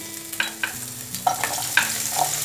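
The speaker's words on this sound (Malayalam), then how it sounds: "ഇനി നമുക്കിതിലേക്ക് വഴറ്റാനുള്ള സാധനങ്ങളൊക്കെ ഓരോന്നായിട്ട് ചേർത്ത് വഴറ്റാം ആദ്യം ഇഞ്ചി ഇട്ടു പിന്നെ വെളുത്തുള്ളി" Ginger and garlic frying in oil in a kadai for matar paneer: a soft continuous sizzle with several light, quick stirring scrapes and taps, close and unaccompanied by speech.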